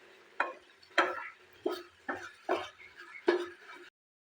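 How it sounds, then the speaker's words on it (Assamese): Coconut and milk mixture being stirred in a pan over a medium gas flame, the spoon scraping in six regular strokes about half a second apart, close and moderately loud with no talking. "আৰু অলপ এইদৰে লৰাই থাকিব লাগিব।"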